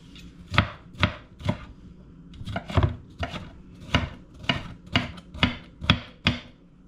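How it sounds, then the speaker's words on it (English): Peppers being roughly chopped with a knife on a board, about a dozen sharp, close knocks in an uneven rhythm, with no voice over them. "over here for the peppers, I'm gonna do the same thing. I'm giving everything a rough chop"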